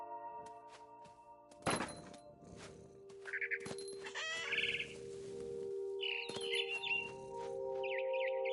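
A bird in a PS4 video game chirps several times in short, bright bursts spread across the clip, with a few dull thunks and game ambience between them and no talking.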